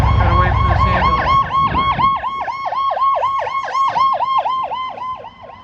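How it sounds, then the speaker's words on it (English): A loud ambulance siren yelps in rapid, repeating up-down cycles, starting over low street traffic rumble in Washington, DC and fading slightly near the end as it passes. "Gotta wait for this ambulance."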